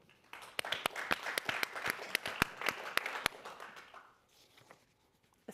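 An audience at an evening event on a state supreme court applauds, a scattered mix of sharp close claps over a softer wash of clapping that thins out and fades to near quiet.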